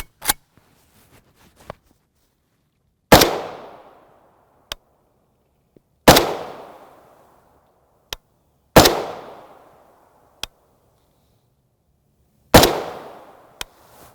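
An AK rifle firing 7.62x39mm Czech SV43 115-grain FMJ tracer rounds outdoors at a berm: four loud, sharp single shots spaced a few seconds apart, each with a ringing decay, plus fainter clicks between them.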